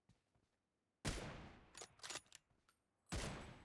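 Headshot gunfire effects in PUBG Mobile come as sharp, loud bursts: a first volley, a scatter of shorter cracks, then a final burst, with near silence before them.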